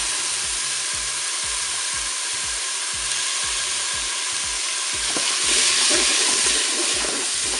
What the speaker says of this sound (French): Je vais maintenant ajouter mes oignons.